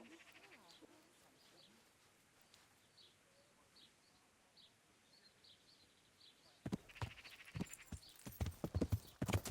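Horse hooves clip-clop in Kingdom Come Deliverance. Faint ambient birdsong comes first, then loud, close, irregular hoofbeats break in near the end.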